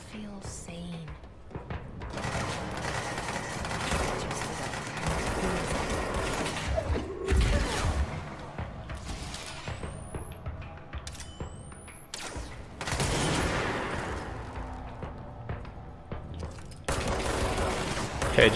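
Gunfire in Control rattles through a dense, busy game soundscape of bursts, impacts and mechanical noise, fairly loud and continuous, with occasional talk over it.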